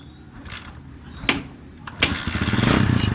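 A Kawasaki Barako 2 motorcycle that needs choke before it starts is kicked several times with sharp, separate strokes, then its engine catches and runs loudly and steadily, close by.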